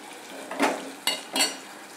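Chopped tomato goes into a pan of ground masala paste frying for a sprouted chickpea curry, with a few soft clinks and sizzling splashes over a low, steady hiss of frying.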